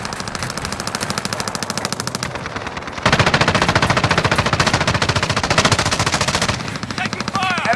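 Sustained automatic gunfire in the video game Call of Duty Modern Warfare, rapid and loud, running steadily with a brief lull before a heavier close burst, while radio-style in-game voices talk over it.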